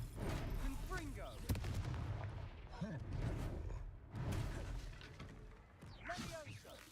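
Fiery Confringo spell blasts in the Hogwarts Legacy video game, booming explosive bursts and whooshes amid continuous combat noise, with a player shouting over the action.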